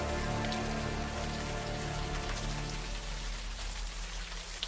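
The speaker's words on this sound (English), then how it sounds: "Now that it's out of the open air, the warm rain is coming down." Warm rain falls in the video game Unavowed, a dense, steady patter and hiss of drops that runs without a break and eases slightly toward the end.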